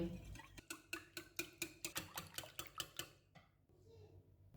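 A whisk or spoon clinks rhythmically against a bowl while four eggs, a cup of milk and a cup of water are mixed, about a dozen quick, even taps close by, then stopping into a quieter rustle.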